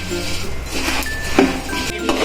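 A metal spoon clinks and scrapes against a pan while puffed rice (mamra) is stirred on a low gas flame, with irregular sharp clinks over a soft rustling background.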